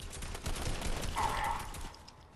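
Gunfire from the Mando character in Fortnite, a rapid burst of shots at moderate distance that fades out after a couple of seconds.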